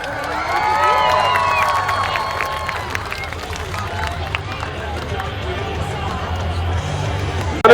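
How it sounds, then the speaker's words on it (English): A large crowd at a 2021 Monster Truck Throwdown show in Dinwiddie, Virginia, cheers, shouts and claps in a loud, sustained roar that peaks early and then holds steady. "another big round of applause for all of our Monster Truck Throwdown competitors"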